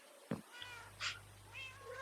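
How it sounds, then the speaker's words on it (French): Short video game cat meows, two or three mewing calls across about two seconds, fairly close and clear over a faint steady hum, with no talking. "il y aura les chats. Miaou."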